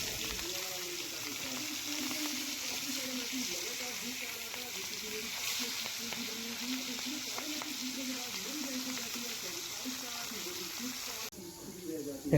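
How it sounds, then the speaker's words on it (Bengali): Fish frying in a pan for a vegetable fish curry gives a steady, close sizzle that crackles evenly throughout, with a faint voice underneath. "আমাদের মাছটা ভাজা হতে থাক"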